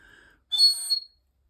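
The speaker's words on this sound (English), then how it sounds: "Group 2 is signified by this beautiful little bird whistle." A small bird whistle is blown once, giving a short, bright, warbling trill after a faint tone, then silence.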